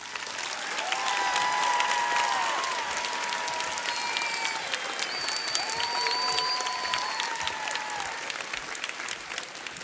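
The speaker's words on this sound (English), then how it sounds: "Let's give the graduates an applause they deserve." An audience at a nursing pinning ceremony applauds associate degree nursing graduates, with sustained dense clapping filling the hall steadily throughout, and faint cheers and whistles rising over it.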